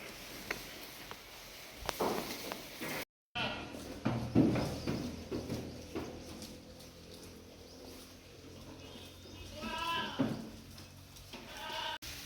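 Sheep and lambs bleat now and then, some close, mixed with soft splashing as they drink water, and a person talking nearby.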